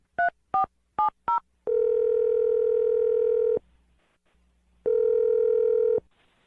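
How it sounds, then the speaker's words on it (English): A telephone sounds four short keypad dialing beeps, followed by two long, steady ringback tones separated by a pause, clear and close. "I'm going to dial the phone number right now"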